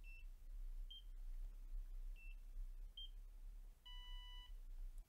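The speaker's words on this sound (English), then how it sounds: "we heard beep, beep. That was a successful beep, successful transaction on the skin." Short high-pitched electronic beeps from a NIRA laser skin device come in pairs, then one longer, fuller beep, all quiet against a soft background with no talking.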